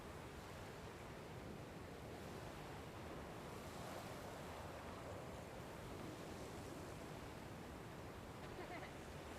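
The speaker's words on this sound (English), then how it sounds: "The water's flowing right over the cliff and all the way down to the bottom." A waterfall in Dragon Quest Builders 2 pours over a cliff, making a steady, even rush of water that holds at a constant, moderate level throughout with no talking.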